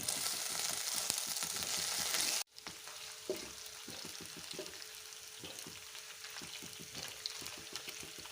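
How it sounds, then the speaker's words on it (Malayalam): Ginger garlic paste fries and is stirred in hot oil for a prawn roast: a loud, continuous sizzle cuts off abruptly and gives way to a softer frying hiss, punctuated by repeated spoon scrapes against the pan. "നമ്മൾ ചൂടായ എണ്ണയിലേക്ക് ഇഞ്ചി വെളുത്തുള്ളി പേസ്റ്റ് നമുക്ക് ഇട്ട് കൊടുക്കാം. നമുക്കിതിൻ്റെ പച്ചമണം മാറുന്നിടം വരെ ഒന്ന് ഇളക്കി കൊടുക്കണം."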